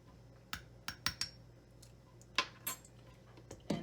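Grapefruit pulp being scooped out with a spoon for a natural face scrub, giving a handful of sharp, scattered metallic clinks and scrapes against the fruit and dish, close and fairly quiet, with no talking.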